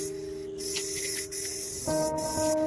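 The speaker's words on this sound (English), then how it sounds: "I use a can spray for this job." A spray can sprays paint onto a car body in continuous bright hissing bursts, close and steady, with brief gaps between passes.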